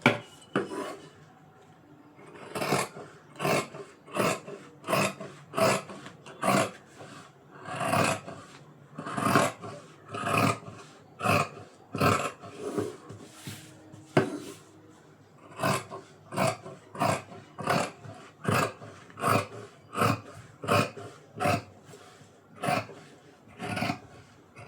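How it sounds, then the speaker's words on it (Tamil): Scissors cut through cloth for a sixteen-panel umbrella frock, a long run of rhythmic rasping snips, close and regular, with a short pause midway and no talk. "நம்ம வந்து இது கட்டிங் பண்ணிக்கலாம்."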